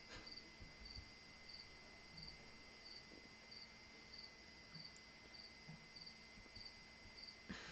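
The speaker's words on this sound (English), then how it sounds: "I have the window down, and we got quite a bit of crickets tonight here." Crickets chirp at night outside an open window in faint, evenly spaced pulses over a quiet background.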